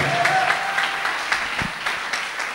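A church congregation claps in a burst of steady, dense applause that continues evenly throughout.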